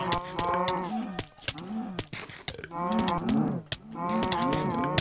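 A cow in Minecraft moos several times in long, loud, groaning calls with short breaks between them, close and clear with no talking.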